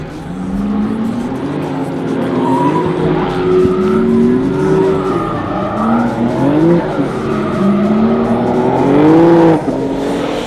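A BMW M4 drift car on the Hockenheimring track revs in rising and falling engine tones with tires squealing through slides, loud and fairly near, the pitch sweeping up repeatedly before cutting off near the end.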